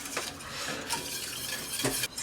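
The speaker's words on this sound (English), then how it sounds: "You know about how long I've been stirring this?" A spoon scrapes and clinks around a pot of egg custard cooking slowly on low heat, a steady soft stirring swish broken by a few sharper metallic taps against the pot's side.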